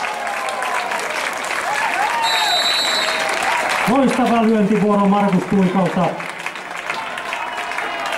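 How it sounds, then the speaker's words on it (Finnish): Spectators at a youth pesäpallo game between Sotkamo and Vimpeli applaud after a home run, steady crowd clapping from a distance running throughout under a commentator talking over it. "Ansaitut aplodit."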